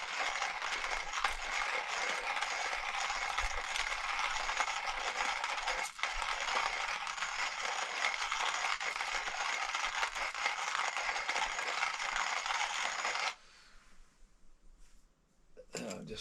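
Steady scraping, crunching rattle of coffee beans being ground in a Kit Cough hand grinder at a campsite, close and continuous for over ten seconds before stopping abruptly, leaving quieter background with faint handling.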